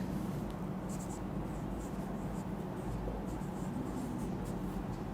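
Formula being written on a board, with faint scratchy strokes over a steady hiss and room noise throughout.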